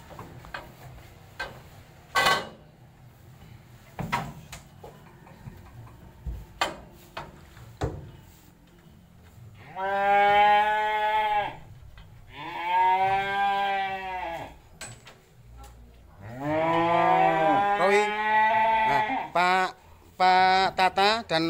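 Cattle being loaded for delivery let out several long, loud moos in close succession, following a stretch of scattered knocks and clatter, with people talking nearby.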